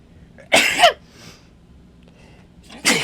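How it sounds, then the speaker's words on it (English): A single sharp human sneeze up close, then a short quiet pause and the burst of a second sneeze or cough beginning at the end. "Sneeze there."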